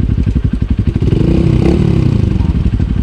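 Motorcycle labouring up a steep mountain road in Kayapa, Bakun, Benguet with a burnt clutch, engine revving loud and close in a pulsing, clattering throb that swells midway and stays rough throughout.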